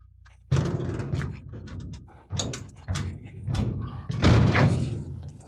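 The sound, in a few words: construction noise from lakefront building work nearby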